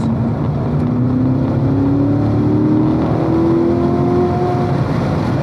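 A race car on an SCCA track at Autobahn South gives a loud, steady engine drone with whining tones shifting as it brakes. It is heard continuously and alone, without talking.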